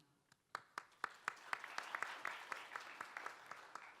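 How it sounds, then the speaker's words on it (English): A conference audience applauds a foreign policy expert, starting with a few separate claps that quickly build into steady, even applause, moderately distant in a large hall. "Please join me in a round of applause for Dr."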